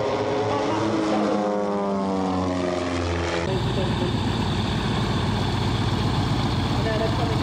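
Propeller aircraft flying at an airshow, a loud continuous engine drone that shifts in pitch partway through as it passes nearby, with people talking over it.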